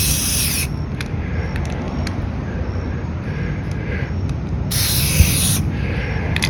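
A spray paint can hisses in two short bursts onto a large acrylic canvas painting, one at the start and one near the end, over a steady background rumble.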